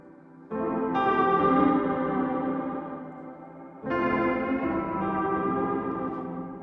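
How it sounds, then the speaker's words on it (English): Two long sustained chords drenched in lush reverb from an Aberrant DSP Lair plugin, with a wavering, chorus-like shimmer as the pitch gently modulates and the tails slowly fade. "Modulation is simple pitch modulation, so it's going to add a bit of a chorusy effect to the reverb."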